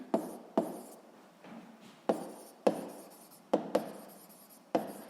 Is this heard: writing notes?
yes